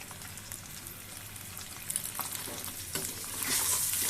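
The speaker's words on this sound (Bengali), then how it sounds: "পেঁয়াজ রসুন ধনে পাতা এলাচ দারুচিনি চাট গুঁড়ো ধনে গুঁড়ো জিরে গুঁড়ো সবই লাগবে ভালো করে ভেজে নেব আমি" Onion, garlic, coriander leaves, cardamom, cinnamon and ground spices frying in a pan, a soft continuous sizzle with scraping stirs that grows louder near the end, no voices.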